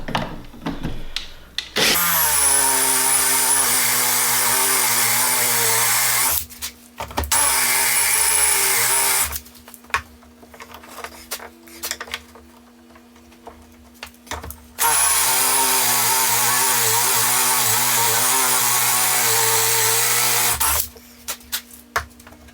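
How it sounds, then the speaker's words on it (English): A power drill boring hinge holes into a cabinet door whines loudly in several long bursts, separated by quieter pauses with clicks and handling noises. "I'm ready to go ahead and drill my 2 actual holes for my door"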